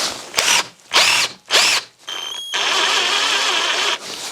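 A Kimo hammer drill revs in three short bursts, then runs continuously with a rough, rattling hammering texture, loud and close, with nobody speaking.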